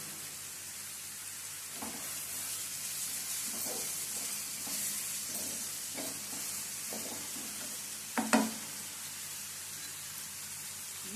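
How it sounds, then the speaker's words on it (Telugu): Onions fry in a pan with a soft, steady sizzle, broken by light scraping and stirring knocks and one louder clatter near the end. "మనకి ఉల్లిపాయ అయితే చక్కగా ఎర్రగా వేగినది"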